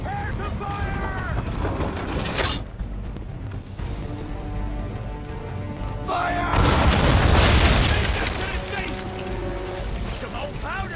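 Ship cannons firing in Assassin's Creed III, a dense roar of booming broadside blasts and crashing impacts over game sound, with voices shouting throughout.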